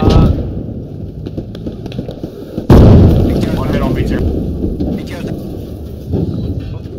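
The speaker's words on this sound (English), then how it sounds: "Grenade. One hit on BTR." A grenade blast slamming into a BTR armored vehicle in the game Squad, one sharp loud burst followed by a rumbling decay amid ongoing battle noise, with voices talking over the fighting.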